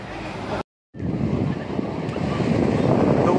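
Strong wind roaring across a beach microphone on a cloudy day by the ocean, a loud continuous buffeting rush with surf mixed in, broken by a brief dropout near the start.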